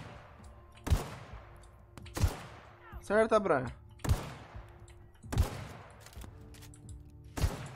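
Gunfire in The Outer Worlds, a run of sharp single shots about a second apart with a brief warbling electronic burst in the middle; a voice speaks briefly over the action.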